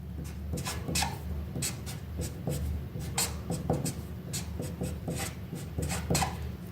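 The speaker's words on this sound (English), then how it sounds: "So let me write my 2 molecules." Chemical molecule structures are written out by hand, pen or marker strokes scratching and squeaking in short quick bursts close by, steady and soft, with no talk.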